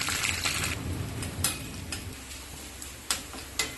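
Mustard seeds crackle in hot oil with green chilli, curry leaves and small onions for a raw banana curry tempering, a soft continuous sizzle broken by a few sharp, isolated pops.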